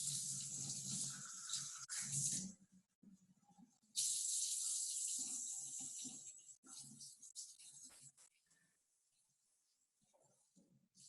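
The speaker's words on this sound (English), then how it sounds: "you're gonna add about 3/4 of a cup warm water to it" Warm water runs from a sink faucet into a measuring cup, a steady broadband rush in bursts that stop and start over several seconds, then gives way to quieter clatter and small handling noises.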